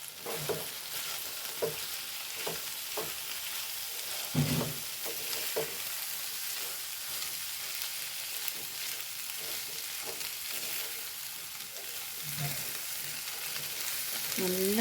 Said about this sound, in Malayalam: കരിവേപ്പിൻ്റെ അരി ഇട്ട് കൊടുക്കട്ടെ ഒന്ന് ഇളക്കി കൊടുക്കാം